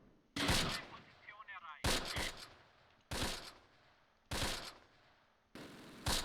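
Heavy machine gun fire rattles in a World War II battle in the Close Combat strategy game, arriving as five loud, dense bursts at roughly one-second intervals with brief quieter gaps between them.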